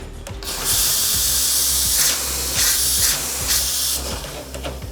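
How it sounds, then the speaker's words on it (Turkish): A Rocket espresso machine's insulated stainless-steel cool-touch steam wand blasts loud, steady steam hiss in several surging bursts over a constant low machine hum. "Roketin bütün makinelerinde stok özelliği olarak cool touch buhar çubuğu geliyor."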